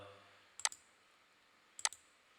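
Two crisp computer mouse clicks about a second apart, close and quiet, each a quick double snap, made while working in an MS Word dialog in an otherwise near-silent room.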